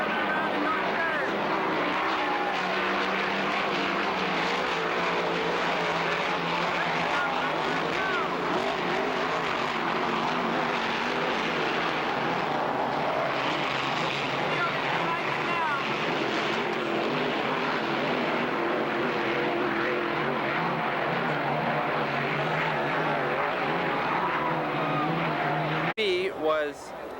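Unlimited hydroplane race boats roar around the north turn of a race course, a loud sustained engine drone with shifting pitch that runs unbroken for the whole stretch and cuts off abruptly near the end.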